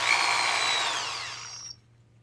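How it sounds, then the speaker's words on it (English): Power drill boring into a Nerf foam dart tip, a short whirring spin lasting under two seconds that winds down and stops abruptly, heard alone. "Drill yourself a little, about 1/4 inch deep."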